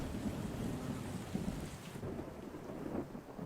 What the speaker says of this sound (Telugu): తుఫాన్ అంట బావా పెరుగుతుందంట వర్షం